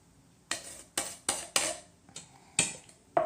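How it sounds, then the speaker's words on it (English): A utensil stirs tomato sauce and salsa together in a pan, making about seven separate close clinks and scrapes against the metal at an uneven pace. "So I'm just going to go ahead and stir that in."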